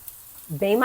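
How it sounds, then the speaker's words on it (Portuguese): Meat sizzles and fries in a hot pan as browning begins, a short burst that swells loud and crackling over the last half, with a brief voiced murmur underneath. "A panela tá lá fazendo, né? E você, olha como já tá fazendo um barulhinho bem mais"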